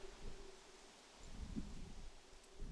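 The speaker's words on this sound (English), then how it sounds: "I feel like this is our first, like, really, really windy fall day" Wind stirs leaves outdoors on a windy fall day. It makes soft, faint rustling with gusty swells and some low wind rumble against the microphone, and no one speaks.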